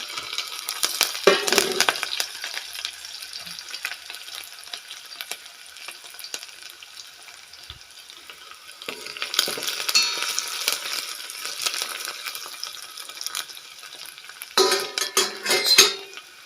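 Garlic and curry leaves fry in a hot pan in a home kitchen, a broad sizzle with scraping stirs and a few utensil clinks, swelling in louder bursts near the start and end with no talking.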